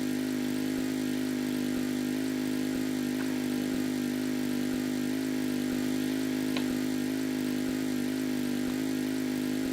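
A car's engine in the Roblox game Dusty Trip drones at a steady, unbroken pitch throughout, like a mid-range motor holding speed, with faint regular ticks underneath.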